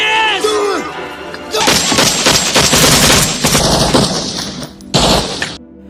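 A gunfire exchange in a Vietnam War film erupts as rapid bursts of automatic weapons and sharp cracks, loud and close, following shouted voices and ending in a final blast before cutting off.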